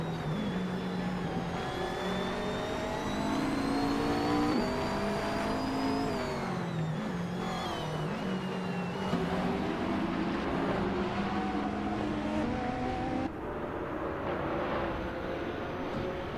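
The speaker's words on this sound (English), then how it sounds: "Bot Blaming Buddha and Bot Lazy Towner continue their duel for second place as they navigate the track closely" Race cars roar around a track in a racing video game, with engines rising and falling in pitch as several cars rev and shift, a dense, continuous loud drone throughout.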